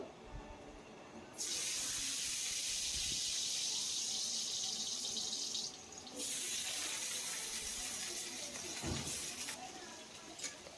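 Cut potatoes dropped into well-heated oil set off a steady, loud hiss and sizzle that fades briefly in the middle and picks up again, with faint clatter near the end.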